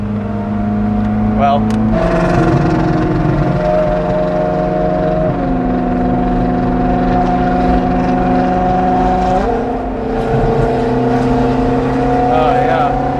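A supercar engine revs loudly and steadily nearby, its tone shifting as the exhaust valves close partway through, with a person speaking briefly over it.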